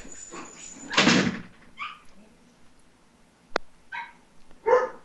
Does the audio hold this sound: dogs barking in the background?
yes